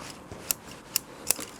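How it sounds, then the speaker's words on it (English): Scissors snip three or four times in quick succession, cutting around a bonsai root ball inside its pot, sharp close clicks over a quiet background. "I'm just going to take these scissors and just cut around the inside of the pot"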